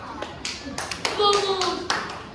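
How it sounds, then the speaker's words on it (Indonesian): A short burst of clapping from a group of children in a classroom, uneven and close, with a voice briefly rising over the claps. "Tepuk tangan buat kelompok 4."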